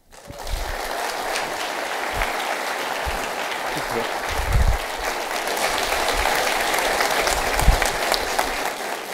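An auditorium audience at a leadership forum applauds a speaker being introduced, dense sustained clapping that swells slightly midway and carries on steadily, with a few low thumps underneath.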